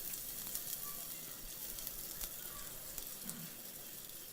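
Onions fry in four tablespoons of oil in a nonstick pan, producing a soft, steady sizzle with faint crackles, fairly quiet and continuous for a few seconds with no voices.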